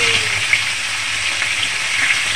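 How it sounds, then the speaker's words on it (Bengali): Thin slices of raw banana and pumpkin fry with a little salt in a pan, giving a loud, steady, close sizzle that runs without a break. "ভাজতে থাকবো কাঁচকলা আর কুমড়োটাকে।"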